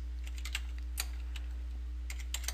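Light taps on a computer keyboard while entering a chart title, a few soft, scattered keystrokes close by over a low steady hum.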